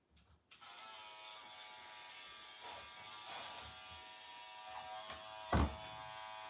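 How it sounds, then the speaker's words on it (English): An electric hair clipper buzzes steadily and up close throughout a men's pompadour haircut done with the clipper-over-comb technique, with a few brief louder scrapes and one sharp knock near the end. "I would be going this way because I'm right-handed with my clipper over comb technique"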